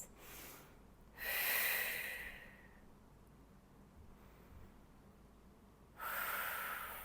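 Heavy breaths during a reformer Pilates core and lower-body workout: two loud, breathy exhales with a snort-like edge, about four seconds apart, separated by quiet room tone.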